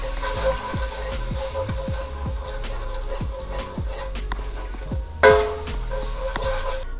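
Taco seasoning being stirred into food frying in a pan gives a steady close sizzle, with a series of soft utensil scrapes and taps repeating through it and one sharper clatter partway in.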